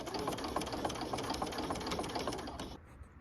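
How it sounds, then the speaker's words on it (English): A sewing machine runs a quick straight stitch along a seam while mending clothes, a steady rapid mechanical chatter heard close and alone before it stops near the end. "I sewed it down along that line with a nice quick straight stitch"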